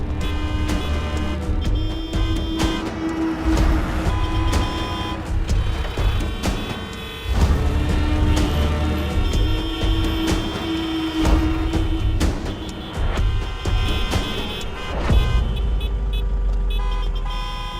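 Busy road traffic in a crowded street scene, a dense continuous roar of car engines with repeated horn toots and honks cutting through, loud and close throughout.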